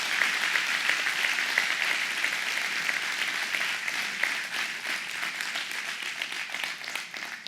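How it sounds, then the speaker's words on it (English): An audience at a community conference in Temecula applauds steadily, a dense, even wash of many hands clapping that holds for several seconds without a break. "please give them a round of applause for being here."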